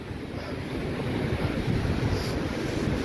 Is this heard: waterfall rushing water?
yes